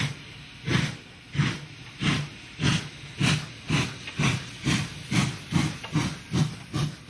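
A steam locomotive on the Swedish Inland Railway near Arvidsjaur gives off roughly a dozen regular, rhythmic chuffs and hisses of exhaust steam, about every half second. It is loud and close, with a steady hiss underneath and no talk.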